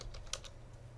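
A few quiet, quick computer-keyboard keystrokes are tapped while a file is being renamed, light clicks over a low steady hum.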